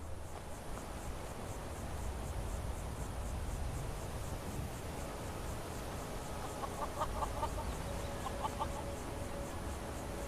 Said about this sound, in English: Yeah, chickens, get out my way.